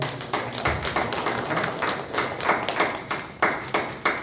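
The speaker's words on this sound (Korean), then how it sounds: "격려의 박수 감사의 박수." A church congregation claps together during a worship service, producing a loud, rhythmic series of sharp claps in a fairly regular beat, close and continuous with no speech.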